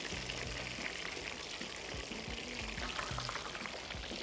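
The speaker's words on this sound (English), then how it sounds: "I want to fry it evenly on both sides, so I'm going to flip it around every now and then" A tomahawk schnitzel frying on a BBQ, a faint, steady sizzle and crackle with low thumps, continuous throughout.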